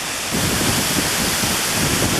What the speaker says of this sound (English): It's getting kind of windy out here.